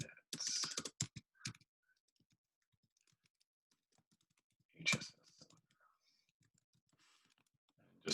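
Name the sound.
typing on a computer keyboard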